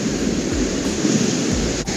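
Sea waves roll in at Copacabana beach in Rio de Janeiro, a steady wash of surf with two deeper swells surging in, mixed with some wind buffeting the microphone.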